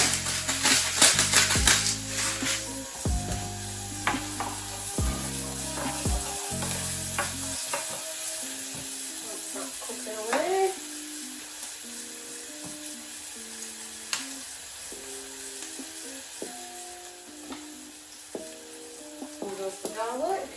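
Onions with salt sizzle and fry in a pan, a steady crackling hiss punctuated by repeated scraping and stirring clatter of a utensil against the pan, close and fairly loud with no speech.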